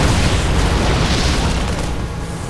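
Loud, dense rumbling blasts of units exploding in a StarCraft II match, a sustained wall of booming destruction filling the whole moment with no voices over it.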